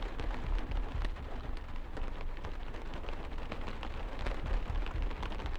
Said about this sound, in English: The sound of the rain